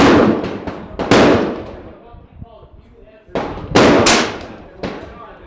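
A PA30 airgun fires slugs, giving sharp loud cracks close by, two sets of bursts separated by a quieter gap, with some talk in between.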